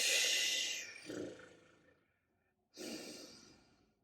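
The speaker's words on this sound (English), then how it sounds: "Exhale all the way to empty." Two long, breathy exhales, close and fairly quiet, come during a core workout breathing exercise, each one a whooshing rush of air that fades out, separated by a brief silence.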